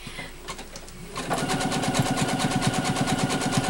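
A sewing machine doing free-motion satin stitching starts up after a quiet moment and runs at a fast, even rhythm of rapid needle strokes, close and continuous.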